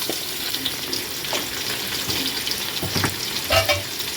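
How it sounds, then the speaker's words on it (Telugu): Ginger garlic paste with turmeric fries in a pan, a close crackling sizzle broken by a few spoon scrapes and stirring knocks, with no talk over it. "ఆ అల్లం వెల్లుల్లి పేస్ట్ కొంచెం పచ్చివాసన పోయేదాకా ఫ్రై కావాలి."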